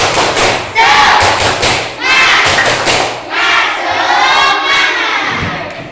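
A class of children claps and shouts together in a rhythmic classroom cheer, loud and close, with thumping beats and voices rising in unison.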